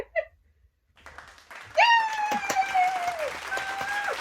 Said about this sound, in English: I can hear the applause